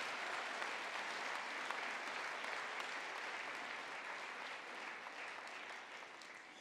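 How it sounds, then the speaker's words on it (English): Sustained applause from a large audience, a dense steady wash of clapping that carries on without a break and fades slightly toward the end. "One more round of applause for all these students."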